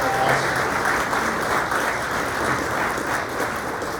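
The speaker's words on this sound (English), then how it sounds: "give them a round of applause" A crowd at a mayoral update event applauds flag presenters from the American Legion, dense sustained clapping throughout, fairly loud and close with no speech over it.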